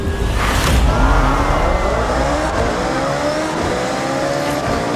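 A loud car engine in the video game Forza Horizon 6 revs hard and climbs through the gears as the car launches, with tire noise, close and continuous.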